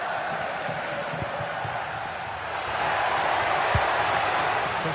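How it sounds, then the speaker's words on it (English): Stadium crowd in a football video game, a dense continuous roar that swells noticeably louder partway through and holds at that raised level. "The crowd certainly think so. Just listen to that noise."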